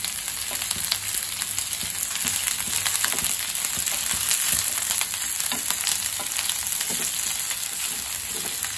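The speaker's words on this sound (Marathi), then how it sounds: "थोडं लालसर होईपर्यंत परतून घ्यायचा कांदा" Onion and five or six green chilies fry in a pan for karela fry, giving a continuous, even, close sizzle that holds steady throughout, with no voices.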